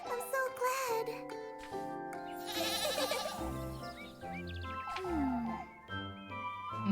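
Goat bleating in a mix of wavering animal calls, loud and close, with overlapping cries and some background sound.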